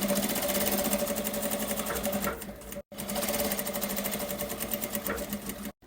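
A sewing machine stitches along fabric edges in fast, loud mechanical bursts. It stops briefly twice and then starts again, with no talking over it.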